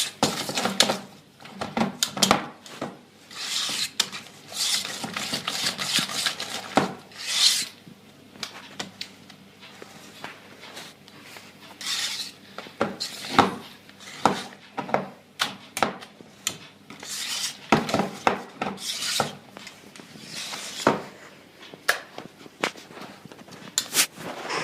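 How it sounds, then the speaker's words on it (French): Cream mixed in a bowl for millefeuille, with irregular clinks, taps and scraping of a utensil against the bowl. The sounds are close and come in uneven bursts. "Et là, je mélange pour redonner la consistance."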